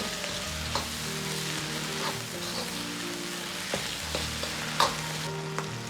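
Chicken with green peppers stir-fried in a wok with chili bean paste, a steady sizzle running throughout with a few sharp scrapes and clicks of stirring, close and alone without talk.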